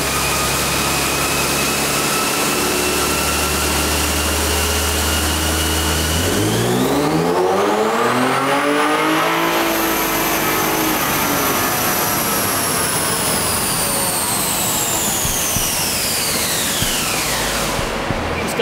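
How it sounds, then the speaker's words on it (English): A 3.5L EcoBoost-swapped Mustang makes a nitrous-assisted run: a loud, steady engine drone climbs sharply in pitch around the middle, holds a high wail, then eases back down toward the end, with no talking. "Got done with the nitrous hits."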